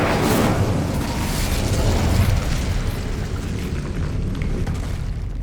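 Incendio fire spell in the Hogwarts Legacy video game, a steady roaring, crackling burst of flame with a booming rush, loud and continuous for several seconds before easing slightly.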